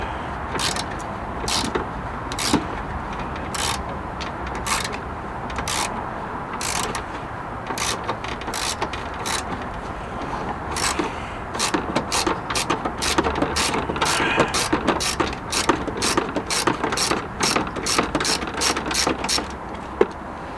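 A hand ratchet works gearbox bolts loose on a car in a driveway, rapid clicking bursts repeating in quick strokes, close and loud, speeding into a dense run of clicks toward the end.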